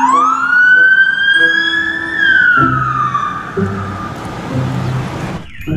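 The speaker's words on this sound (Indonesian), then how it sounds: "Wow, mobil polisi teman-teman," A toy highway patrol police car siren sweeps upward and then slides down in a loud electronic wail, close up, with some light clicking and handling noises underneath.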